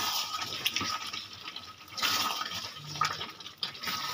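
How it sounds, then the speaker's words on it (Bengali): Water poured into a pan of chicken and onions makes a steady, moderately quiet splashing and gurgling that rises and falls over a few seconds, with no voices. "এবার আমি এখানে অল্প পরিমাণে জল দেব।"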